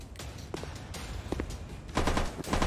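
Video game gunfire crackles in short automatic bursts at moderate loudness, the shots coming in quick clusters with a louder volley near the end.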